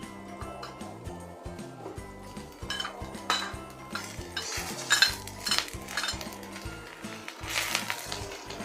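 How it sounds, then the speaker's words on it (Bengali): Washed shrimp fry with chopped onion in mustard oil in a pan for bottle gourd with shrimp curry. Repeated metallic scrapes and clinks of a spatula stirring against the pan sit over a faint background sizzle, with no talking. "পেঁয়াজের সাথে চিংড়ি মাছগুলোকে হালকা ভেজে নেব।"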